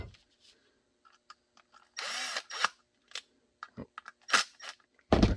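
A power drill fitted with a 1/8 inch bit bores holes in a holster, running in a sustained burst followed by several shorter bursts, close and fairly loud, with quiet gaps between.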